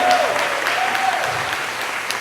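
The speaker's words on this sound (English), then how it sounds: "Give Summer one more round of applause, everybody." A crowd claps steadily and loudly throughout at a women's wellness event, a dense wash of applause with no pauses.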